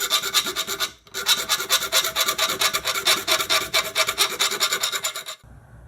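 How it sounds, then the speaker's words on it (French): Scraping on a Peugeot 103 moped's Parmakit 65cc engine part, heard as rapid, steady rasping strokes, close and loud, with a brief pause near the start and quiet at the end. "donc je vais gratter ici et là, et ça me donnera plus d'amplitude là"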